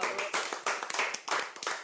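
Audience clapping during a French comedy show, a burst of hand claps rising and falling in uneven waves, close and fairly loud, with no voices over it.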